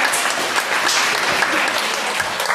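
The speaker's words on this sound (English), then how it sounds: "can you all clap at any frequency you like and any amplitude you like on the count of three?" An audience at a talk on exploring the cosmos from the Moon claps together on cue, a loud, dense burst of applause that stays steady from start to end.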